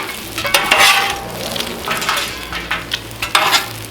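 Hash browns frying in bacon fat on a Cuisinart 360 griddle while a spatula scrapes and turns them, a constant crackling sizzle broken by several sharp scraping strokes, close and fairly loud, no speech.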